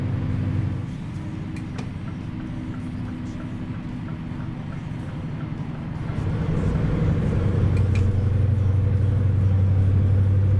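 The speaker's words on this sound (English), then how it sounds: "the sound on this motor just keeps replaying like the last 3 seconds over and over again" A steady, droning truck engine in a trucking simulator game rumbles continuously, a few seconds of sound looping, its low tone shifting slightly partway through, with faint talk underneath.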